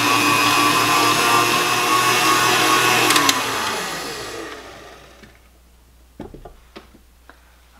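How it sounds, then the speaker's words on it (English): Electric mixer whirring through a cream cheese dessert filling with lemon juice and vanilla, a steady loud motor drone that spins down and stops halfway, followed by a few clinks and scrapes in a quiet kitchen. "I'm just gonna let it mix until it's completely mixed in and creamy"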